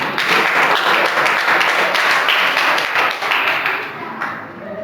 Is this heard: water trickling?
no